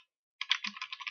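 Quick burst of typing on a computer keyboard, about a dozen close, crisp key clicks in rapid succession after a moment of silence.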